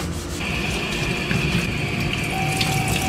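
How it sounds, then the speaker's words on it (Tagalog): Water from a tap runs steadily into a basin for washing, a continuous close rushing splash with a faint hum, no voices. "Tsaka mo pupunduhan ng tubig."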